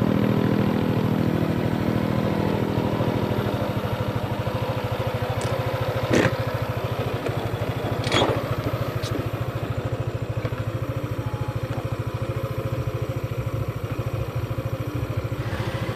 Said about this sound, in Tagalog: susubukan natin mga katropa yung top speed na aking motor